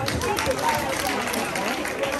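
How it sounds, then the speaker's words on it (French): School audience applauding students at a cultural and sports day celebration, a steady wash of clapping and crowd noise with voices mixed in, moderately loud throughout. "on applaudit pour eux"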